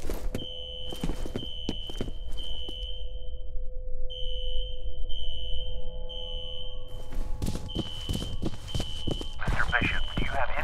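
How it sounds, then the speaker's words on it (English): A fire alarm at a security office in the shooter game F.E.A.R. sounds in repeated high electronic beeps, pulsing on and off among footsteps and clattering movement, and voices talk over it. "A fire alarm. At a security office on that floor."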